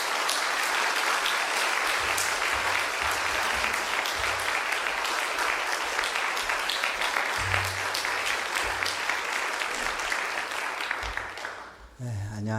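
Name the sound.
audience applause welcoming missionary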